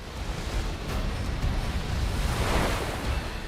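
Waves surge and batter inside a flooded cave gallery, a continuous loud roaring rush with broad swells and no pauses.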